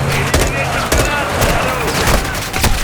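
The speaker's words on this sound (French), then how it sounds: "On subit des tirs nourris." Heavy gunfire in the video game Call of Duty Modern Warfare II: repeated sharp gunshots and bursts of fire crack over a dense, loud battle din, with sporadic booms throughout.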